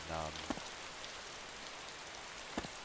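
Heavy rain pours in the DayZ video game, a steady dense hiss running throughout with a couple of brief faint clicks, no voice over it.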